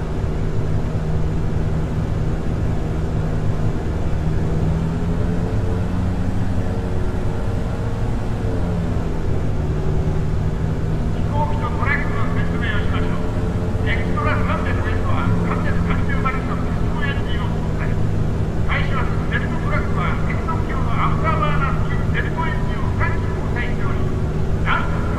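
A jet makes a low pass over a truck in the FSX flight simulator, a sustained engine drone and hum running throughout, with a brighter rushing, crackling roar building in about halfway through.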